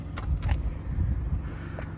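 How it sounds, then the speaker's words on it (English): The tailgate of a BMW 1 Series 118i M Sport five-door hatchback being opened, heard as a close low mechanical rumble with a few soft clicks and a latch release. "And if we then pop open the tailgate,"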